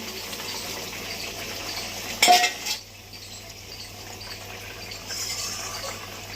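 Fish dropped into turmeric water in a pot, a brief splashing clatter midway through, set against quiet background hiss with faint kitchen clinks.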